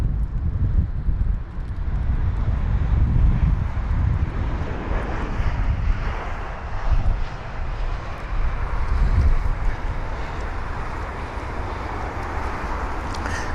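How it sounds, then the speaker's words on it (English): An Airbus A319 in Eurowings service lands at London Heathrow with a broad, steady engine roar and rumble, some wind buffeting mixed in, heard from a distance and lasting throughout with no voices. "It's a very smooth landing."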